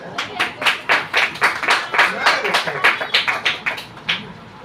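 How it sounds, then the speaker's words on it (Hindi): A small group claps for children in a classroom-style setting, a quick run of about twenty sharp, fairly close handclaps in a loose, uneven rhythm with no talk over it. "बच्चों के लिए ताली बजाओ।"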